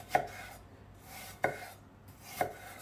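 A knife strikes a cutting board three times at an even, unhurried pace while slicing apples for an apple cake, each chop a sharp close knock with quiet pauses between.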